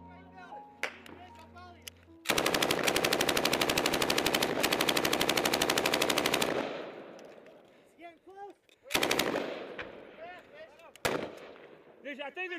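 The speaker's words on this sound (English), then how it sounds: "I think they're shooting." Rapid bursts of gunfire from people shooting nearby, a long sustained automatic volley lasting several seconds followed by scattered single shots and shorter bursts, loud and sharp against a quieter background.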